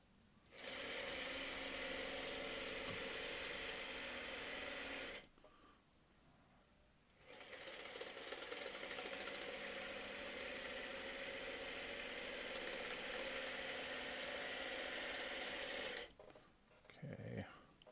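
A sewing machine stitches fabric strips in two bursts: a steady mechanical whir runs about five seconds, pauses, then resumes louder for roughly nine seconds, held below full speed, with a short faint murmur of talk at the end.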